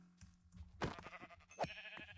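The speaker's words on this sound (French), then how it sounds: "Je me suis déjà attaché à ce mouton." A sheep in the Minecraft game bleats twice in quick succession, short faint nasal calls about a second apart over a quiet background.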